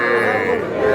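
A young heifer calf lows briefly at a busy cattle market, one sustained moo close by with faint voices around it.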